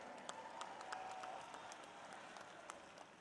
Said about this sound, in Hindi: साथियों, जोरदार तालियां बजा करके